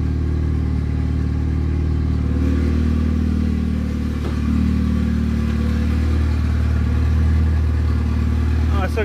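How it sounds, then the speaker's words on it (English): Boosted F23 Honda Accord engine idling with a steady low rumble and light mechanical clatter, close and fairly loud, while someone talks over it. "Idling good, idling good."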